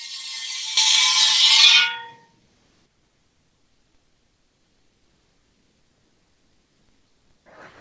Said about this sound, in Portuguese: eu encontrei essa garrafa e esse pequeno spray de limpar computadores e eu estava tentando recriar algo que poderia ajudá-los